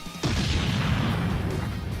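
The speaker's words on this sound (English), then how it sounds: "The resulting explosion lit up the sky, and a shockwave spread for miles." A cartoon explosion effect for an anime-style energy blast, a sharp crashing onset swelling into a dense, sustained roar that fills the whole clip.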